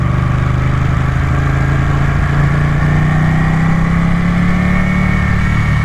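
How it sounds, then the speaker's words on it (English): A sports bike engine growls low and steady while riding, a continuous near drone that rises slowly in pitch with no talk over it. "I hope the helmet camera is picking up the sound of this engine. It's unlike any other bike that I've got. It's just got that low growl."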